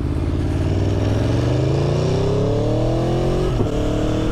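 A V4 sport motorcycle, an Aprilia Tuono or Yamaha MT-10, revs hard and rises steadily in pitch, loud and close, with no talk.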